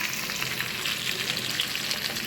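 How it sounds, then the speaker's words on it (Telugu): Chicken frying in a pan gives off a continuous, close, bright sizzle with a crackling, spattering texture, steady and even and heard alone. "చికెన్ ఫ్రై చేస్తున్నానండి."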